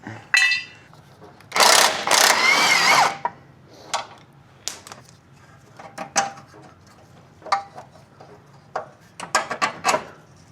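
A ratchet works bolts loose on a 2015 Subaru Forester, with a long loud burst of tool noise early on, followed by scattered sharp clicks and metallic taps close by.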